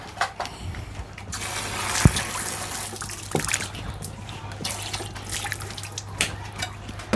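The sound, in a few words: running tap water while washing hands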